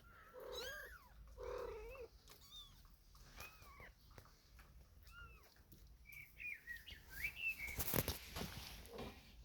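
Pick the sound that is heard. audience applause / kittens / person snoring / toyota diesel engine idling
kittens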